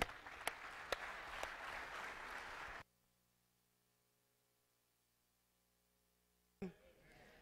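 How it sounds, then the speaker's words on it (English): A congregation claps together in a steady burst of applause for about three seconds, then it goes quiet before a brief loud knock near the end. "Let's give God a clap of praise."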